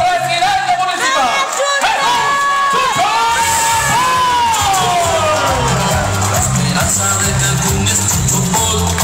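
A large crowd at a political rally in Cancún cheers, whoops and shouts continuously, a loud dense roar with voices rising above it.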